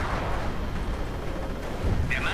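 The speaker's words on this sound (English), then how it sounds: "Grenade." A grenade blast in a World War II real-time strategy game, heard as a deep low rumble with a short burst near the end, over continuous battle noise and artillery.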